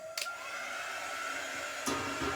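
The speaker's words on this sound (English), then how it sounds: "So I do have my quick dry tool here." A quick dry heat tool blows over chalk paint with a steady, close, airy whir like a hair dryer, with a couple of faint clicks near the start and end.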